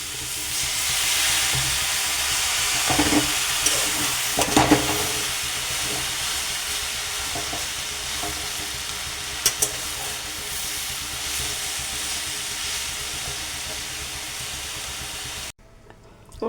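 Taro leaf thoran stir-frying in a pan gives a steady sizzle and hiss, with brief scraping stirs and clinks rising over it, close and fairly quiet.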